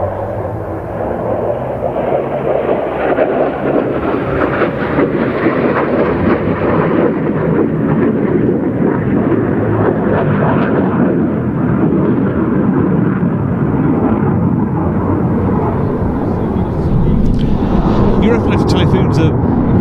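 Luftwaffe Eurofighter Typhoon EF-2000 jet at a NATO and Czech Air Force air show, a loud, steady roar with deep broadband rumble filling the whole stretch, crowd or commentary faintly mixed beneath.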